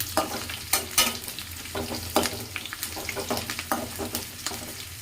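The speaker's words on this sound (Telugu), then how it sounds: "సో బెండకాయ ముక్కలు నా స్టైల్లో నేను ముందుగానే వేయించుకుంటున్నాను." Okra pieces frying in a pan for a fish curry, with a steady sizzle broken by repeated scraping stirs and clacks of a spatula, close and fairly loud, with no talking.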